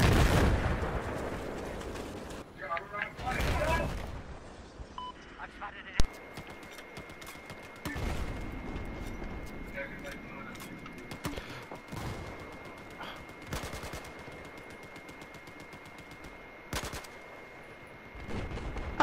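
Battlefield 4 gunfire crackles in bursts of sharp shots, some loud and near, others fainter, with players talking over the shooting throughout.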